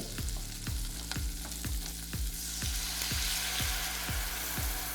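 Steady sizzling of shrimp frying in a hot pan with white wine added, with a regular ticking or tapping rhythm throughout and a brief burst of stronger hiss midway.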